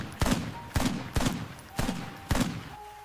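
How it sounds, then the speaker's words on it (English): Five loud gunshots ring out at the same roughly half-second spacing, each a sharp crack with a short decay, heard close and alone with no talking. "A gunshot exploded through the night."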